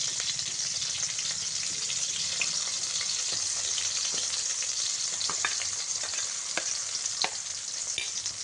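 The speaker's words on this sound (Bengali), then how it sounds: "পেঁয়াজ কুচি দিয়ে নিচ্ছি।" Chopped onions fry in hot oil with a continuous bright sizzle and scattered crackles, close and steady throughout with no voices.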